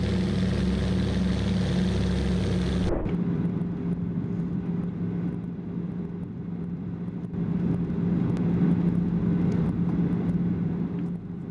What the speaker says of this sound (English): a Canzo PBY Catalina lifts off smoothly from the lake, skimming the water before climbing away